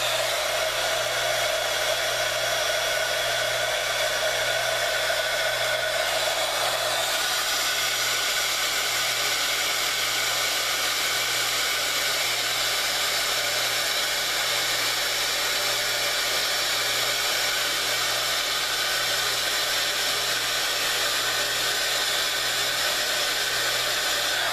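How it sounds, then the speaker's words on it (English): A handheld embossing heat tool blows hot air in a steady, loud, unbroken whoosh close by, its tone shifting slightly a few seconds in, with no voices. "Now I'm going to use my heat tool"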